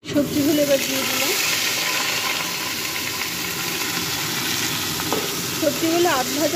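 Vegetables hitting hot oil with dried red chili, bay leaf and cumin in a home kitchen burst into a loud, steady sizzle with stirring, while a voice speaks briefly at the start and end.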